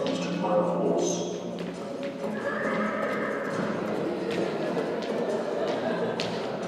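A horse's hooves clip-clop steadily while the horse neighs audibly over the middle of the clip, and a voice-like sound seems to be mixed in.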